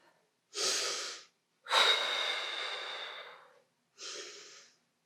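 Exercise breathing: three heavy, close, audible breaths with pauses between them. The middle exhale is long and drawn out as the body is lowered.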